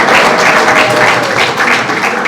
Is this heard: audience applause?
yes